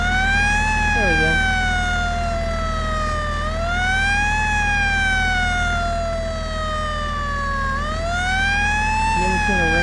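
A tow truck's loud wailing siren rises and falls in long slow sweeps over a steady engine rumble, with brief voices underneath.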